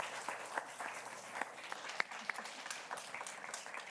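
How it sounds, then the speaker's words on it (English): Applause from a conference audience thanking a panel, steady scattered clapping across the room with a few sharper individual claps, moderately quiet and with no talk over it. "So we can give a round of applause to our panelists while we take questions."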